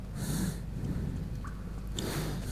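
A character in the video game Metro 2033 breathes heavily through a gas mask, loud rasping inhales and exhales repeating at a steady rhythm, close and alone.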